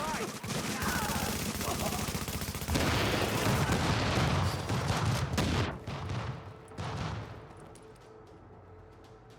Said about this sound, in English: Wow, that's some shooting.